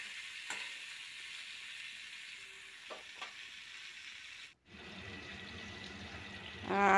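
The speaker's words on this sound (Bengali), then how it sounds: "আলুগুলোকে, এখন তো সেদ্ধ আছে, এগুলো একটু হালকা ভাজা মতো করে নেব।" Boiled potatoes fry lightly with salt and turmeric in a pan, a soft, low sizzle with a few faint clinks. It drops out briefly midway, then returns a little brighter.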